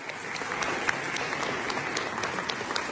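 A small audience breaks into applause, a dense close wash of clapping that holds steady for a few seconds with occasional sharper individual claps.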